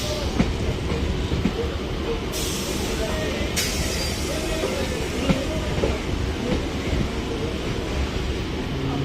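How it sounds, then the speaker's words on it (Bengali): An express train pulls out at Sealdah station, heard from a train arriving there: a steady rumbling roll with faint clacks and a couple of brief hissing bursts, with people talking over it. "আর এই যে এটা বেরিয়ে যাচ্ছে হচ্ছে এক্সপ্রেস ট্রেন।"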